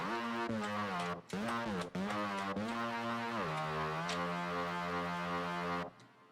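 Neuro rave lead patch in Serum 2, a sustained buzzy, growling synth note whose low pitch bends and wobbles with a few short cutoffs, then holds steady until it stops abruptly.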